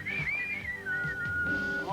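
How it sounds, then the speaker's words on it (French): Someone whistles a wavering, sliding tune, fairly quiet against a background of low rumbling noise. "Naturel décontracté en sifflant."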